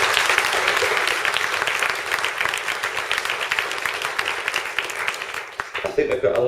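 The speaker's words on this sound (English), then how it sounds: "So can we give Nida a round of applause, please?" An audience at an awards speech applauds, steady dense clapping with a murmur of voices that fades as talking resumes at the end.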